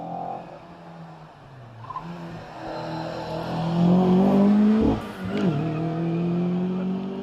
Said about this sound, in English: his escort with the RS 1600 engine, who has just left the start line